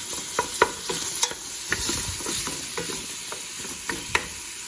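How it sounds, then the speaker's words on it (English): Sausage and onions stirred in a pan on high heat, a continuous sizzle broken by repeated scraping clicks of a utensil, close and fairly loud with no talk. "I got my temperature on pretty high. I'm stirring it."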